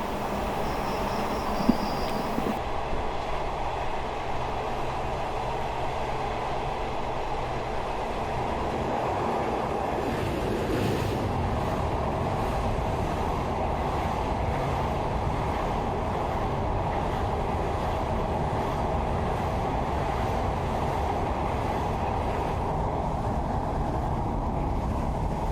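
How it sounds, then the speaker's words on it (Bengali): A passenger train runs along the line from Rajbari toward Mawa and passes under a bridge, a loud, steady rumble and rattling roar heard from on board, with a brief high hiss near the start. "ট্রেনটা এখন সেতুর নিচে ঢুকে যাবে, আর সেতুর দিয়ে ট্রেনটা অনেক জোরসে চলে, রানিং।"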